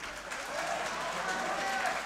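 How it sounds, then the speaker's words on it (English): A crowd claps steadily at a 61kg professional MMA bout, a broad sustained patter that runs beneath continuous commentary. "And the crowd with the claps."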